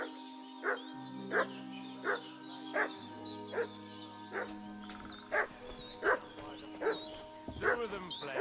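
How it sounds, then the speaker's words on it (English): A dog in the video game Kingdom Come: Deliverance 2 barks and yips repeatedly in a steady rhythm, fairly close, over a low musical drone and background ambience. "What's that dog making such a fuss about?"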